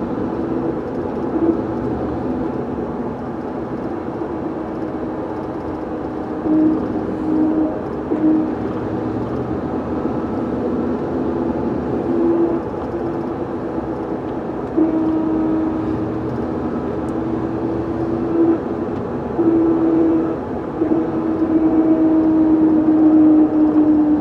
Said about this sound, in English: hopefully the camera should pick up the noise of the rear end